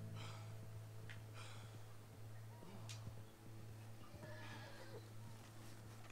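Faint horse neighs and snorts with occasional hoof clip-clop in the video game Red Dead Redemption 2, quiet and distant over a steady low hum throughout.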